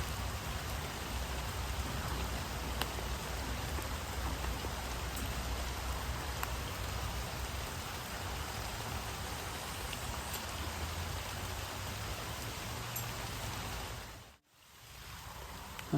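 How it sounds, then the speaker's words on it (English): Heavy rain pours down steadily at a carp fishing spot, a dense, continuous hiss of drops close by that drops out abruptly for a moment near the end. "Just trying to get out the rain a bit really, because as you'll see it's pissing down now."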